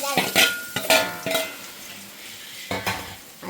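Stirring in a hot pan on a Kerala kitchen stove, a quick cluster of scrapes and metallic clinks, a pause, then two more strokes, all over a low sizzle and close to the ear.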